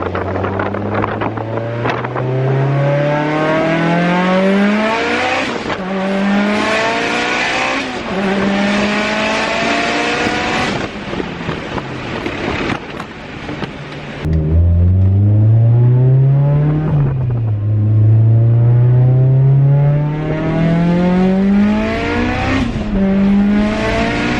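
An 800 hp Mitsubishi Lancer Evolution VIII engine revs hard and accelerates through several gears, its pitch climbing and dropping at each shift, with steady wind rush throughout.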